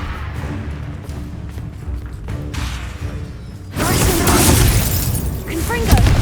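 A Confringo blasting spell from the Hogwarts Legacy video game goes off partway through, a sudden loud crashing burst with shattering debris that lingers as a dense roar, after quieter game ambience and mechanical clatter.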